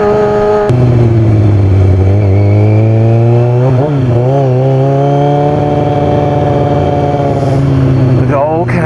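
A Kawasaki ZX-6R 636 motorcycle engine roars loudly at close range, its exhaust revving up and down in strong harmonic swells that echo inside a tunnel.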